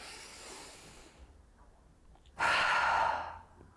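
A person exhales forcefully through the mouth during a shoulder-release stretch, a single loud, breathy rush of air lasting under a second after a quieter stretch of softer breathing.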